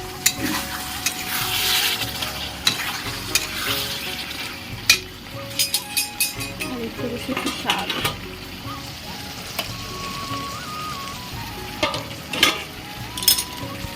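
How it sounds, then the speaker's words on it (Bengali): Fish curry spice paste being stirred and sautéed in a pan, with a steady low sizzle and frequent scraping and stirring clinks throughout, close and continuous, without talk. "তো এখানে মাছের মশলা কষানো হয়ে গিয়েছে"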